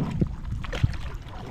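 Oar strokes pull a small boat through water, two distinct low splashing pulls spaced under a second apart amid gurgling water and light wind.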